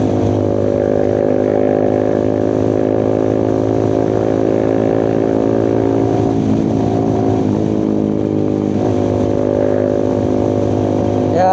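A motorcycle engine drones steadily while touring on a hot, sunny road, loud and close with a strong low hum and even harmonics, dipping briefly a couple of times as the throttle eases.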